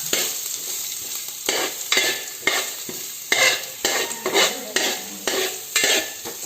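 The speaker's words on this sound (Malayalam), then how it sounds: "ഇനി അതിലോട്ട് കുറച്ച് ക്യാരറ്റ് ഇട്ട് കൊടുക്കുക. ഇനി നല്ലവണ്ണം ഇളക്കി കൊടുക്കുക." Onion and carrot frying in a pan for vegetable noodles, stirred with a utensil that scrapes and clacks against the metal in repeated strokes over a constant close sizzle.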